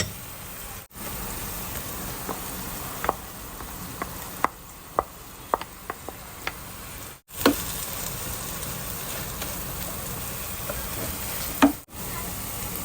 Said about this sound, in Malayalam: ഇപ്പം നമ്മൾ നമ്മൾ ഉടച്ച് വെച്ചിരിക്കുന്ന നമ്മുടെ ഉരുളക്കിഴങ്ങ് ഉരുളക്കിഴങ്ങിനകത്തോട്ട് നമ്മൾ ചേർത്ത് കൊടുക്കുകയാണ്